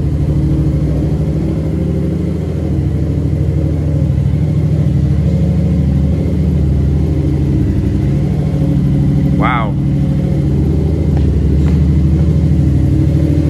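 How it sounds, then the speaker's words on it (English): A tuned 2015 Yamaha FZ07 motorcycle engine runs loud and close with a deep, continuous rumble, and a brief sharp rising sound cuts in near the middle. "It's hard to explain how fast this thing revs up."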